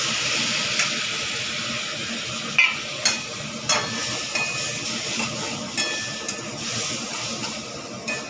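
Water poured into a frying fish-head spice paste of turmeric, chilli powder and salt, a loud steady sizzle and steam hiss broken by a few sharp stirring clacks.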